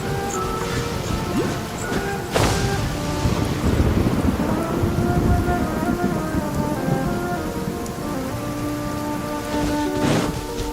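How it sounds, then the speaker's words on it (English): Steady heavy rain pours down in Genshin Impact, a constant hiss and patter on surfaces, with thunder cracking twice and a game music tone humming faintly beneath throughout. "I'm used to the rain, but you should probably use an umbrella."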